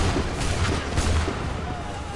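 Musket volleys ring out in Assassin's Creed 3 Remastered as a ragged string of deep booms and cracking shots. The reports come close together and loud, with a rumbling tail between them.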